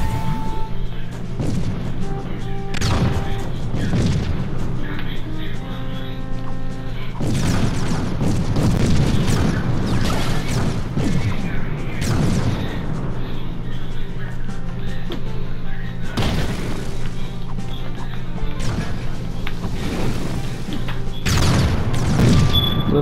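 Gunfire and explosive booms in the Trove video game, repeated heavy bursts and crashes throughout over a dense, steady game soundtrack.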